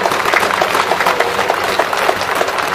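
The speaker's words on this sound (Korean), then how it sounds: "박수 부탁드립니다" Steady, dense clapping from an outdoor crowd at a Korean general election campaign rally in Seongdong, continuous and fairly loud for the whole stretch with no voices over it.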